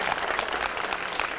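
Studio audience at a televised debate breaks into brisk, continuous clapping, close and full, with scattered crowd noise.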